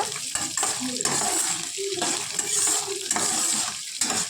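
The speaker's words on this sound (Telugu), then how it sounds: "పచ్చిమిర్చి ఉల్లిపాయలు బాగా వేయించుకోవాలి ఆనియన్స్ బాగా వేగిన తర్వాత" Green chillies and onions fry and sizzle in a pan for semiya upma, with a steady hiss and intermittent scraping stirs throughout.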